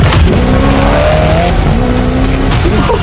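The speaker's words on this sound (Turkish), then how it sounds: "Bu arabanın dünyadaki en hızlı arabalardan biri olmasının sebebi turbo şarjörlü çift V8 motor." A very fast car with a twin-turbocharged V8 engine roars close and loud, its engine pitch climbing in steady rising sweeps while tires squeal and skid, with no talking over it.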